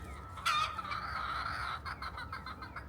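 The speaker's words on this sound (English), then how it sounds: "there's like a rooster over there now" Rooster and chickens clucking outdoors in the morning, a loud burst of calls followed by a sustained crow-like cry, then choppy clucking trailing off, with no talk.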